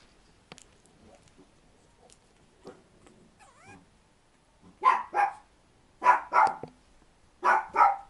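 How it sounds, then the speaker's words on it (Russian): A Chihuahua gives several loud barks in close pairs, each burst short and sharp, after a stretch of quieter scattered sounds. "Кто-то лает."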